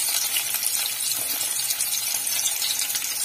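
Onions and mustard seeds fry in hot oil on a stove for green beans curry, giving a steady close sizzle with faint crackling and no talk.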